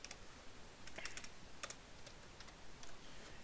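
Soft, faint keystrokes tap on a computer keyboard in irregular short bursts over a quiet background hiss while a folder path is entered.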